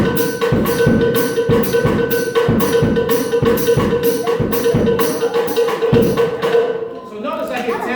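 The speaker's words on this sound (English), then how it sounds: "I'm going to utilize the cowbell here." Latin drum groove on a kit with a cowbell struck in a steady, driving pattern over kick and snare, loud and close throughout, trailing off into a brief softer ring at the end.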